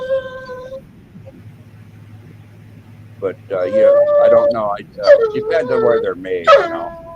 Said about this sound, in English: That's my dog begging for Scooby snacks.